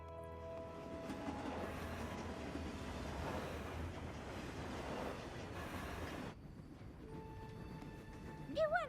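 An animated cartoon train pulls away in a steady, fairly loud rumble that stops abruptly, leaving a few faint tones and a brief squeal.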